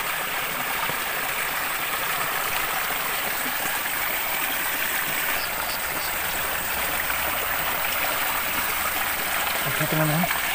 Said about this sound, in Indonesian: Ini sumber air juga.